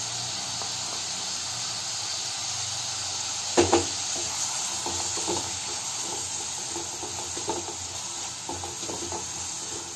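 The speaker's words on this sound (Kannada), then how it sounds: "ಇದನ್ನು ಒಂದು 2 ನಿಮಿಷ ಫ್ರೈ ಮಾಡ್ಕೊಳ್ಳಿ" Chopped green chili and carrot frying in a pan for wheat flour noodles, giving a steady soft sizzle and hiss with a few light clinks of stirring.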